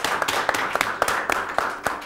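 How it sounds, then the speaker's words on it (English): A small studio audience claps for a contestant on a children's spelling quiz show, a quick, even run of fairly loud hand claps lasting about two seconds. "Let's give a round of applause."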